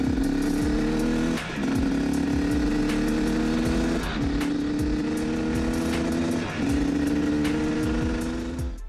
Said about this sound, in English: I like to run the bike through the gears a few times, going from first gear to fifth gear